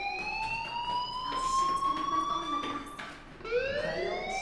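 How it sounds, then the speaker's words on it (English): A school fire alarm in the video game Life is Strange wails with a steady rising tone, restarting after a short break and staying loud and continuous over a faint background. "do you hear that fire alarm?"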